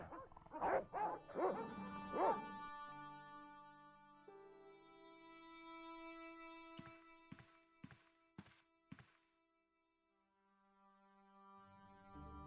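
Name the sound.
dogs barking in video game Broken Sword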